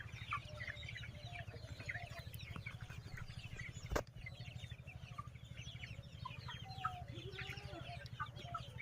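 Sonali super hybrid chickens cluck and chatter in a large farm shed, a dense, steady flock murmur over a constant low hum, with occasional sharper calls rising out of the crowd.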